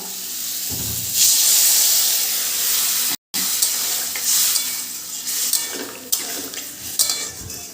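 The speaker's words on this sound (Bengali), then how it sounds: "এবার আমি এর ভিতরে দিয়ে দেব জল" Water splashed into sizzling fried spice masala in a pan for a vegetarian elephant foot yam dish, a loud hissing burst of steam then continued bubbling sizzle with clanks of a stirring utensil against the pot, close and unaccompanied by talk.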